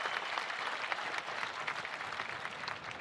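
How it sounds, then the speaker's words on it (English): Audience applause at a Pro Football Hall of Fame enshrinement, steady dense clapping from a large crowd, fairly distant and even throughout. "Give them both a round of applause."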